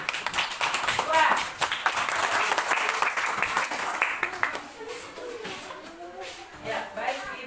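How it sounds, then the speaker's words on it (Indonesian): Schoolchildren in an Indonesian classroom clapping for classmates who performed, a burst of crisp hand claps that tapers off as a teacher's voice takes over. "Tepuk tangan."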